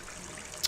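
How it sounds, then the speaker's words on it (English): Faucet water running in the video game Gone Home, a soft steady trickle throughout with a brief brighter splash near the end. "Turn the faucet on."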